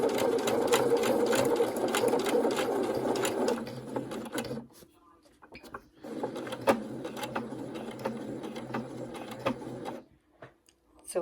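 A sewing machine stitching the side seams of a fabric face mask, running in a fast, close mechanical whir, pausing briefly, starting again, then stopping and restarting in short bursts near the end.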